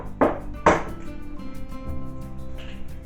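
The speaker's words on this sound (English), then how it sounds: "So I'm going to crack them in this bowl" Eggs cracked on a bowl rim while making eggs benedict: two sharp, close taps in quick succession, then a softer third knock, in a quiet kitchen.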